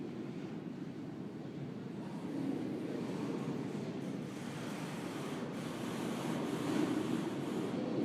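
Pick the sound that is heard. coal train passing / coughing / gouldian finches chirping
coal train passing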